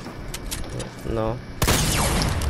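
A sniper shot in a video game: a single sharp, loud crack comes after quieter game background noise and a short mechanical rattle.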